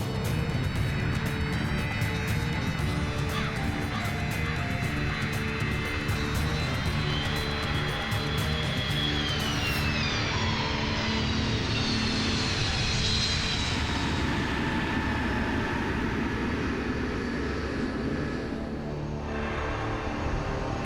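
A Lockheed C-5 Galaxy military transport roars loudly on its landing approach and touchdown at Balad, the engine drone sustained with a descending whine shifting through the sound.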